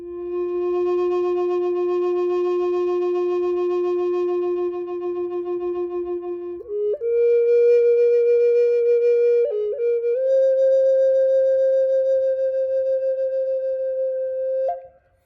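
A Native American flute plays long, pure sustained notes, stepping between a few pitches, with a gentle wobble added to the later tones; solo and clear.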